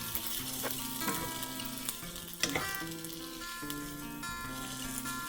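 A Javanese dish fries in a pan over a low flame. The gentle, continuous sizzle carries scattered small crackles and pops, close and moderately quiet, with no talking.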